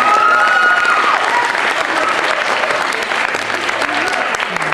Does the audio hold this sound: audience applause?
yes